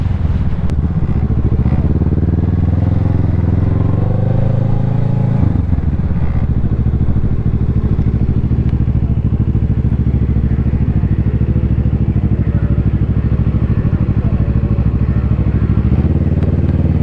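Kawasaki Ninja 650 motorcycle rolling into a parking lot, engine loud and close, dropping from a higher rev to a lower steady rumble partway through and continuing at low speed.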